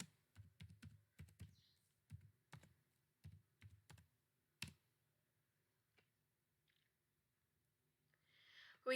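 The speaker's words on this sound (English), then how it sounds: "We type again." Typing on a computer keyboard during a MikroTik-style router firewall and NAT lab, a run of close, crisp key clicks in irregular bursts for about five seconds, then near silence with a soft rustle at the end.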